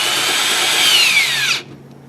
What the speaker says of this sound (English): Drilling screws in.